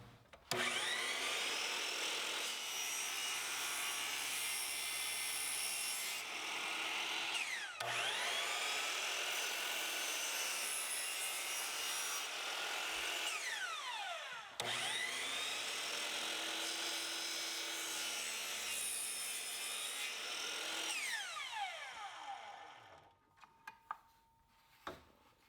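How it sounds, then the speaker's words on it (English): A miter saw cutting casing molding at a 45-degree angle, loud sustained whine of the blade through wood in three long passes, winding down to quiet clicks at the end. "I'll have to cut this on a 45-degree angle with the miter saw"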